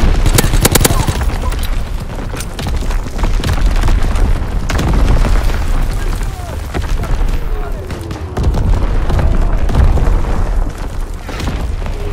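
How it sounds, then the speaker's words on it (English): Dense artillery barrage in the World War II shooter Call of Duty WW2: heavy booms and rumbling blasts roll continuously, loud and overlapping, with faint voices mixed in. "Firing division artillery."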